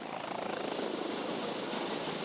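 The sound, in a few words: police helicopter in flight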